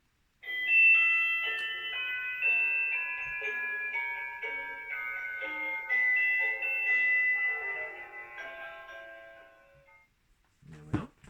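A clock chimes a run of bright, ringing bell tones that descend and overlap for about ten seconds, close and clear, then fade out before a short low thump at the end.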